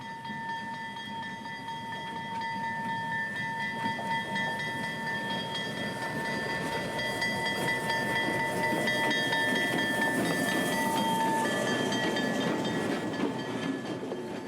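ACL locomotive 8330 rolls past with a steady rumble and faint rail clatter, with sustained whistle-like tones above, building gradually and remaining fairly close throughout.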